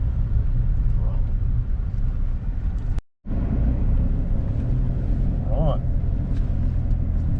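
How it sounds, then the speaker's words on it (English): Four-wheel-drive vehicle on mud-terrain tyres driving off-road on a dry local track: a steady low engine rumble and road noise throughout, with a brief cut partway and a short spoken word over it. "So we'll just go a bit off-road here."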